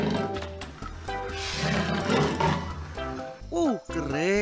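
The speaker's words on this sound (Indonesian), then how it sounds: "Ini singa warna kuning." A yellow lion in a children's animal-truck cartoon gives a loud, rough roar near the start, followed by rising and falling whistle-like sweeps at the end.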